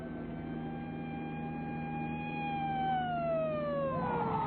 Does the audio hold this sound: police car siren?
yes